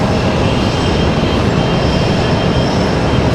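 A Delta Air Lines jet with a Whitetail livery on the runway at Raleigh-Durham International Airport, a loud steady roar of engine noise that fills the whole stretch and never lets up.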